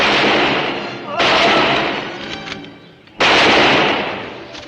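Two sharp gunshots are fired toward a sheriff in an old Western setting. Each blast rings and decays over a couple of seconds, spaced about two seconds apart and loud and close.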